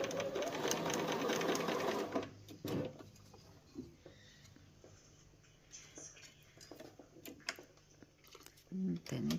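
Bernina 1030 sewing machine stitching a straight stitch in reverse, a loud steady mechanical whir for the first two seconds that drops into quieter clicks and handling taps with a voice speaking over it.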